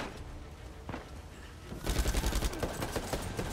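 Gunfire in Uncharted 4: a faint distant shot or two, then a louder burst of rapid automatic fire with quick repeated cracks, muffled and mid-distance, without talking over it.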